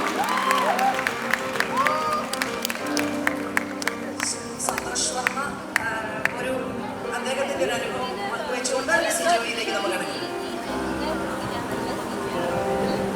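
An audience at a Malayalam film event for the movie Swargam breaks into applause and cheering for a guest, a dense burst of clapping mixed with crowd chatter and a voice on a mic.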